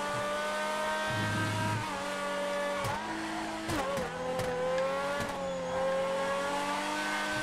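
Race car in GTA FiveM, engine revving and shifting through gears with rising and falling pitch, brief throttle lifts and tire squeal, loud and close throughout.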